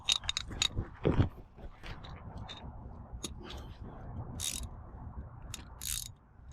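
A wrench ratchets in quick clicking bursts as a part is tightened on a car during an oil change job, close and fairly quiet, with short pauses between strokes.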